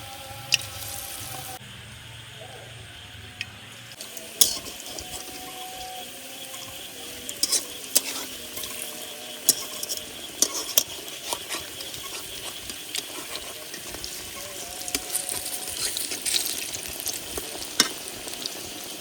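Young jackfruit fritters fry in oil with a continuous soft sizzle and crackle, broken by scattered sharper pops and occasional stirring clinks, close up and steady for the whole span.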